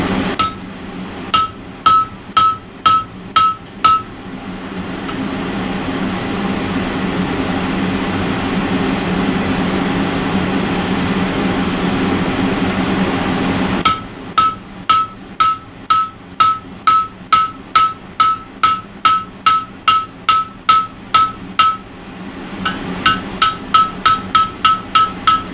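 Blacksmith striking metal on a hot cut, working stock for an under-gate sheep barrier: bursts of loud, evenly paced ringing hammer blows, near and clear, with a long pause carrying a steady roar like a forge blower.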